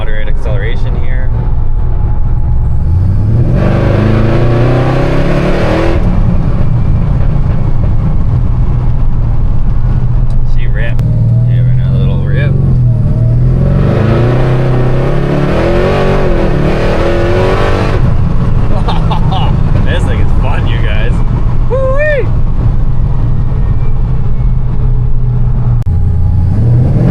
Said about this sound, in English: So I'll do another little moderate acceleration here.